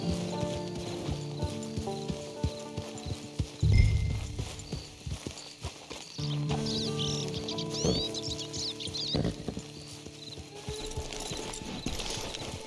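Horse hooves clip-clop at a walk in the Red Dead Redemption 2 video game, a steady rhythmic clatter close by, with a brief whinny, birdsong and game music in the background.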